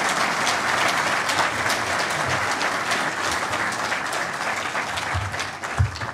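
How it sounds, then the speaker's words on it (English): A room of people applauding at a panel discussion, steady sustained clapping lasting around six seconds and fairly loud, with no talking over it. "let's give him a round of applause"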